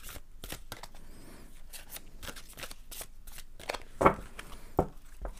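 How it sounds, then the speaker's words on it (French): Large oracle cards being shuffled by hand, a series of crisp riffling slaps and papery swishes with a few sharper snaps near the end, close and fairly quiet with no talking. "nous allons, dans un premier temps, rebattre les cartes,"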